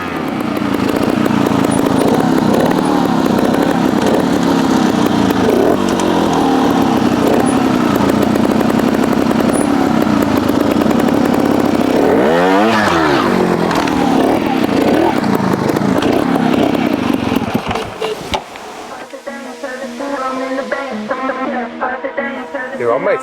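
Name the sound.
Beta Evo 250 trials motorcycle engine starting and running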